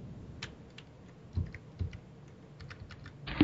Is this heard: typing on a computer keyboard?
yes